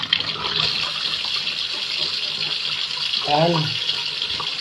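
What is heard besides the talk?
running tap water washing ingredients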